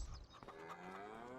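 Cows mooing in Farming Simulator 25 on a small ten-cow farm: a faint, drawn-out low moo with a rising tonal layer, brief and quiet.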